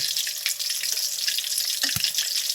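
Food frying in hot oil in a home kitchen gives a steady, bright hiss and sizzle with faint crackles and a soft clunk near the end, no talk.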